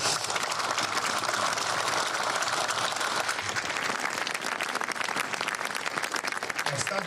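Sustained audience applause at a commemoration held near a small church, a dense continuous patter of many hands at moderate distance, steady throughout with no talk over it.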